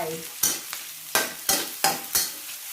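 Onions frying in a pan over medium heat, with a soft continuous sizzle broken by six or so sharp scraping stirs of a utensil against the pan, close and clear with no voices.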